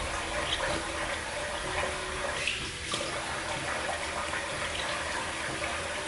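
Steady water runs from a tap at a bathroom sink while someone rinses off after a shave, a close continuous splashing rush holding the same level throughout with no voices.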